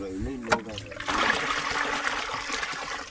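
Water is poured into a drum holding dissolved fertilizer mix for a potato crop, a steady splashing gush following a brief trickle, close by, with a voice talking at the start.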